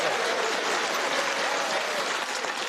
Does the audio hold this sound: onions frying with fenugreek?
no